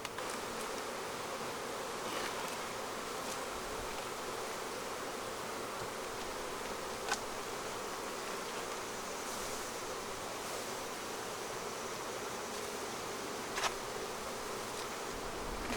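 Honeybees from a strong hive buzz in a dense, steady swarm drone that runs continuously at moderate loudness, with a couple of faint clicks or knocks along the way and no talking.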